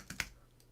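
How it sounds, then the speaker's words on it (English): Typing on a computer keyboard, two or three quick, soft key clicks close by with a quiet room behind them. "which I do by typing git log"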